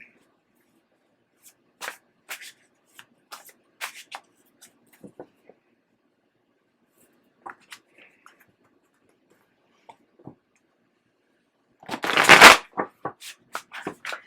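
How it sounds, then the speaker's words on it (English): Tarot cards are shuffled by hand in short bursts of crisp riffling and tapping, quiet and close, separated by pauses, with one louder, longer shuffle near the end. "And Mr. O will shuffle first, and I will cut"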